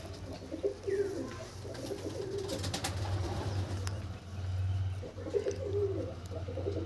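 Pigeons coo in a loft, several soft, low rolling calls repeating close by over a background hum, with no one talking.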